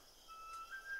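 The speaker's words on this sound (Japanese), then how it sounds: "笛の音だ。" A faint, thin flute or whistle tone rises and holds briefly above quiet background hiss, alone without voices.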